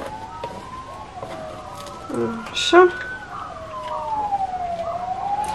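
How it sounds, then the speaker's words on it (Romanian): An ambulance siren passes through a residential neighbourhood, its wailing tone rising and falling steadily at a moderate distance, while a person speaks briefly and a short animal call cuts in. "De fiecare dată când trece o salvare, câinii din cartier își manifestă."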